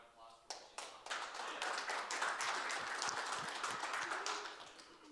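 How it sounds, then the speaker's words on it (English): Applause from a live-stream university event audience, a dense patter of clapping swelling in after a few sharp taps and continuing steadily before tapering, with faint voices mixed in. "can we give her a round of applause"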